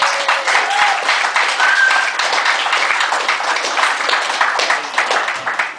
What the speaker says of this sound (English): which I think is worth a round of applause for Jeremy